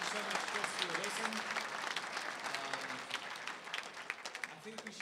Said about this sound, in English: Chris, another round of applause.